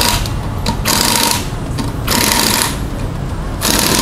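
A power tool repeatedly tightens bolts on an offroad beadlock wheel rim fitted with an Accelera Badax Extreme tyre, a loud rattling whir running in several bursts with short pauses between them.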